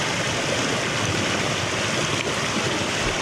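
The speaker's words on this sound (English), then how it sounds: "there's a nice bit of running water coming down here" A river in the Northumberland and Scottish borders countryside rushes past close by, a loud, continuous wash of running water with no pauses and no talking.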